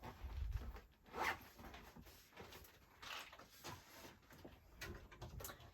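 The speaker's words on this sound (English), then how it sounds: "I can't close the zip." A clothing-style zipper tugged repeatedly on a crafting bag while making a Christmas card, several short scraping zips in uneven bursts, close and quiet in a still room.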